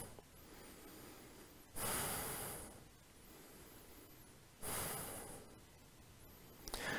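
Slow breathing while holding a yoga balance pose, two long loud breath swells amid quieter airy exhales, close and with no talk.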